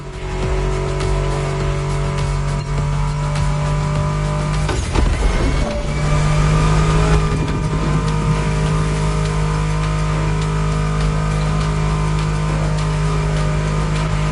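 Car engines rev in the racing game The Crew Motorfest, a loud sustained roar with a brief surge in the middle, running alongside steady tonal background sound.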